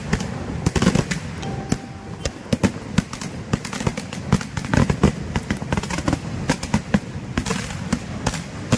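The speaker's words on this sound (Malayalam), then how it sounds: "സൂപ്പറായിട്ടുള്ള വെടിക്കെട്ടാണ് ആസ്വദിച്ചത്" Rapid volleys of fireworks at the Mudappallur Vela festival burst and crack in quick succession, loud sharp bangs overlapping in a dense, irregular rhythm.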